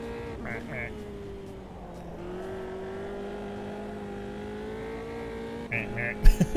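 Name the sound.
race car engine sound in video game Automobilista 2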